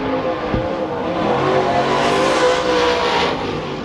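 A race car at Billings Motorsports Park passes down the front straightaway after coming through turns 3 and 4, a loud engine roar that swells to a peak as it passes close by.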